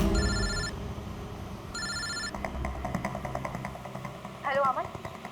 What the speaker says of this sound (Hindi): मैंने अमन को फोन किया।